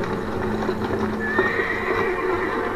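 A horse neighs in the video game Amnesia: The Dark Descent, a loud drawn-out whinny over a dense, continuous game soundscape with hoof clip-clop, and no talk.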